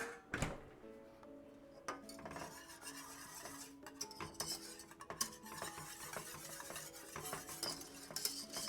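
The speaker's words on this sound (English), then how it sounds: "And again, we're continuing to whisk." A whisk works through a thick rigatoni sauce in a pot, giving close, quiet scraping and clinking against the metal sides in an irregular rhythm, with a few sharper taps and no talking.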